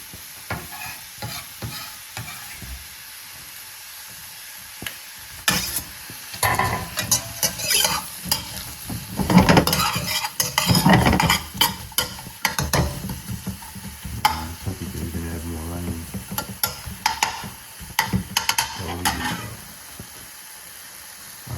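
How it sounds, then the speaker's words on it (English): Onions frying in a pan for chicken adobo and being stirred, a crackling sizzle broken by repeated scraping and clattering of a spoon against the pan, close and busy with bursts of louder activity, no speech. "I'm going to throw these onions in there"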